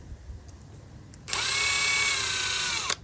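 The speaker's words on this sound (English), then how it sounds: "Go ahead and drill that hole, and here I'm using a, I believe this is a Milwaukee" A Milwaukee drill with a 3/8 inch auger drilling into a tree branch for cabling, a loud, close, high steady whine that starts abruptly and runs about a second and a half before stopping.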